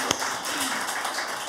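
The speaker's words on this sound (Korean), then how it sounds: "박수 한번 쳐드릴까요?" Audience at a live poetry broadcast applauding poet Kim Min-jeong, a dense, steady wash of many hands clapping at once that continues evenly through the moment.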